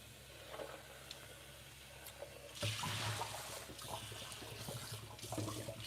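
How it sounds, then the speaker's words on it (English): Tap water runs steadily at low level, splashing harder from the middle onward as something is rinsed under the stream in a home kitchen during raw vegan sushi and tahini-soy sauce preparation. "So let me rinse this because we are going to use this to make the sauce."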